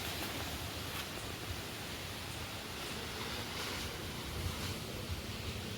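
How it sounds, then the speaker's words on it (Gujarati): Soft, steady rushing storm wind noise, broad and unbroken, with faint gusty swells; fairly quiet and distant, no voices. "વાવાઝોડાનો જેટલો પવન આવશે ધીમો ધીમો શરૂ થઈ ગયો છે"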